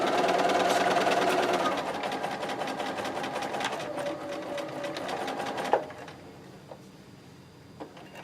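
A sewing machine stitches a quilt, running as a steady close whir for about six seconds before it stops. A few faint clicks follow in the quieter stretch.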